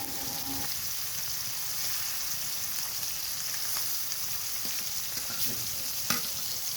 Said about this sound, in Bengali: একে একে মাছগুলো হালকা করে ভেজে নেব